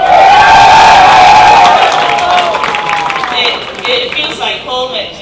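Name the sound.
crowd cheering at squash final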